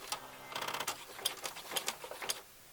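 A sewing machine runs straight stitches on a cloud-shaped pillow in short rapid bursts of mechanical chattering, stopping and starting several times, close and fairly quiet.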